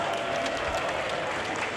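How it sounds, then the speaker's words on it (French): An audience at the Just Dance French Cup 2019 applauds dancer Mehdi Kerkouche, a fairly quiet, even spread of clapping from a distance with a faint voice underneath. "On va applaudir encore Mehdi Kerkouche."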